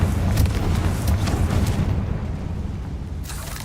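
A fiery Confringo spell blast in the wizarding game Hogwarts Legacy erupts as a loud, booming explosion with a rumbling low end, fading over a few seconds; no talking.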